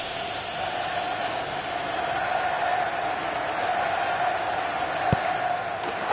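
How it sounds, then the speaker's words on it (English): Stadium crowd noise from the Winning Eleven 2015 football video game: a steady, loud roar from a packed crowd behind the goal during a penalty, a constant wall of sound with a brief sharp accent near the end. "The packed crowd behind the goal trying their best to put him off. The noise is deafening."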